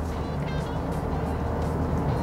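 Toyota Fortuner VRZ cruising at about 80 km/h through bends, giving a steady low road and engine rumble with tyre noise, continuous and close inside the cabin, no talk over it.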